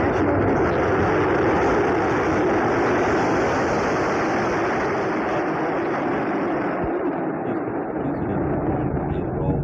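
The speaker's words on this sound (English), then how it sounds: "We have ignition and liftoff of Columbia on an ambitious 10-day international research flight." Space Shuttle Columbia lifting off at the start of a 10-day international research flight, a loud, sustained broadband roar that holds steady for the whole stretch and thins slightly toward the end.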